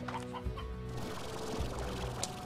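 Chickens cluck in the video game Slime Rancher, soft repeated clucks over a steady game background hum.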